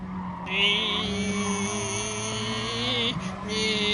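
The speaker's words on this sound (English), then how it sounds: "Listen to that glorious 1-stroke, 2-stroke engine, whatever." A two-stroke race car engine in a sim racing league race gives a thin, buzzing, hairdryer-like whine that holds steady and loud for a few seconds with slight pitch shifts.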